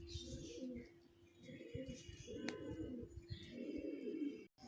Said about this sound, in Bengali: দেখুন বন্ধুরা, একটি কালাঙ্কা পায়রার আপনাদের শখ করাচ্ছি।